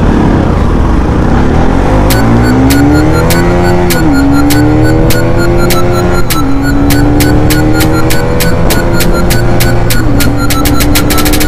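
Pulsar NS200 and Gixxer 150 motorcycles drag racing in Coimbatore, engines revving loudly and continuously, rising in pitch through repeated gear shifts with sharp popping bursts as the bikes accelerate hard up close.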